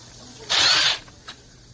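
A single loud burst of about half a second from a power drill or impact driver loosening the clutch cover bolts on a Mitsubishi gas brush cutter during an engine overhaul, followed by a faint short click.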